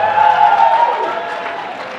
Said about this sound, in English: We have some cheering in the background